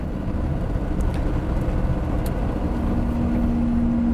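An old car's engine runs while its gears are shifted, a steady close rumble with a low hum. Faint clicks are heard and a tone rises in the last second.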